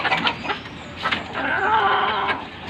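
A chicken gives short, scattered clucks close by, joined by a longer rising vocal call partway through, with no clear speech.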